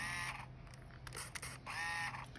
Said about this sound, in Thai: อันนี้คือการกอฟิล์มกลับนะคะ